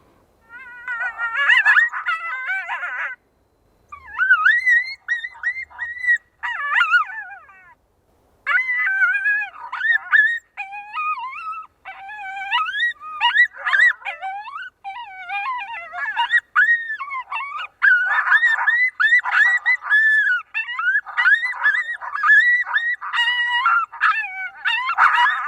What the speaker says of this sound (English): it's going to finish out triggering the response of the food, the pup distress, focus on maternal instincts, to the more aggressive coyote fight